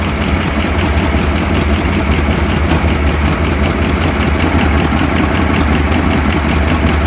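The V8 engine of a 1957 Ford Thunderbird runs steadily at idle, loud and close, with a slight exhaust leak adding a rapid ticking puff to the constant drone, and no talk.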